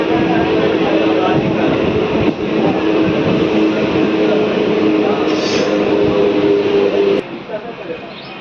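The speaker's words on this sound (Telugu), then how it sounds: "మర్రి చేతులకు మన ట్రైన్ చేరుకుంది" A Raichur–Guntakal DEMU passenger train stands at Marrichetla station, heard from inside as a steady, loud mechanical rumble with voices murmuring in the background; the drone drops sharply near the end.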